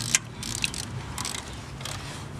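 A torque wrench clicks as it reaches set torque on valve cover bolts of a 1998 Toyota Corolla, one sharp close click near the start, then faint mechanical rattles over a low hum.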